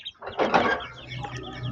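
A short burst of clucking and chirping from backyard chickens and chicks close by, a brief flurry of calls fading into quieter murmuring.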